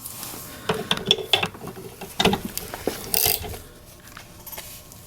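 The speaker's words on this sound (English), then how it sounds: "remove the socket bolt so that we can remove the interior section of the fork. It's an 8 millimeter ratchet" Clicking and ratcheting from an 8 mm Allen ratchet loosening the socket bolt on a Honda Shadow VLX600 motorcycle fork, a few close bursts of rapid mechanical clicks separated by brief pauses.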